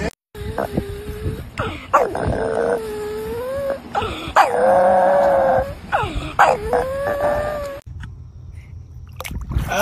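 A small dog yips and whimpers in a run of high, wavering cries that rise and fall, loud and close, with brief pauses between and a short quieter stretch near the end.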